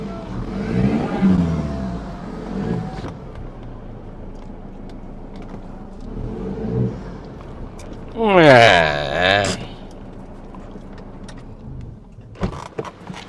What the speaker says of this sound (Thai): ฮะทำไมรถเบิ้ลเองได้อะ